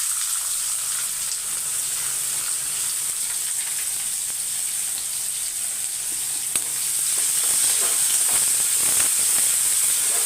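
Onion, garlic and curry leaves sauté in a hot pan with a dried chilli, a dense continuous sizzle and hiss that stays loud and close throughout, slightly fuller toward the end.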